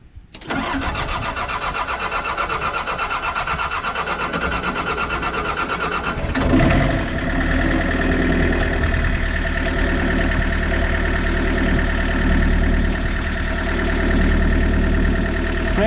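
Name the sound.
excavator engine starting and idling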